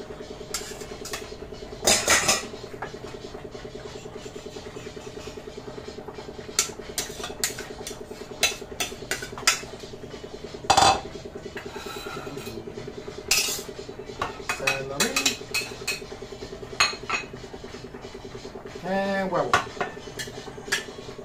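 Utensils clink and scrape against a bowl while a Russian salad is mixed, in irregular bursts of metallic tapping over a steady low hum, with brief speech here and there.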